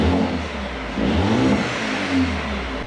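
A Mercedes A35 AMG engine in Sports Plus mode revs with its exhaust valve open, two rising throaty swells over a steady idle, close and loud, no speech.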